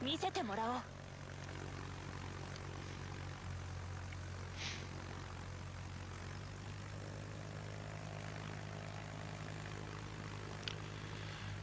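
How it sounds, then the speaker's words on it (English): Rocket-plane engines in World of Warships drone as a steady, faint propeller-like hum that holds through the whole stretch, with a brief whoosh near the start and someone commentating over it. "Starting off with the rocket planes."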